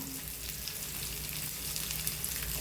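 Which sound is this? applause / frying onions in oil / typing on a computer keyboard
frying onions in oil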